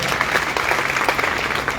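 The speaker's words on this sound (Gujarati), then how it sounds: "એકવાર જોરદાર તાળી પડો હેતલ માટે" Crowd at a public gathering in Radhanpur clapping for Hetal, a newly elected municipal president, a dense burst of loud continuous applause.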